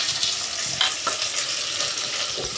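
Ground mustard and poppy seed paste frying in a hot pan, a steady close sizzle and crackle with occasional stirring scrapes, heard alone.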